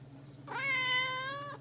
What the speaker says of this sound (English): Yes, the cat wants attention.